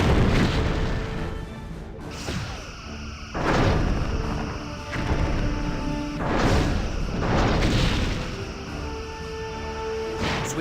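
Torpedoes launch in the space combat game Star Trek Bridge Commander: several heavy, booming blasts land a second or two apart over a low, continuous hum, loud and close.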